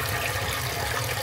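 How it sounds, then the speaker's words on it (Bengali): Steady, continuous splashing of water falling and pouring, like a small fountain, with no voices. "ঝর্ণার মতো পানি পড়ে।"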